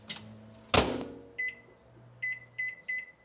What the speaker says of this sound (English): I'm just gonna cook this in the microwave.